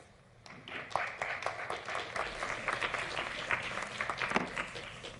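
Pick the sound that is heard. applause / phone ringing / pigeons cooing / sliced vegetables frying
applause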